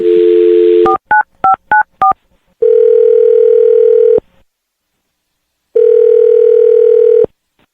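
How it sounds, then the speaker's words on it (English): A quick run of touch-tone beeps, then two long steady ringback tones separated by silence, loud and close. "I'm going to dial the phone number."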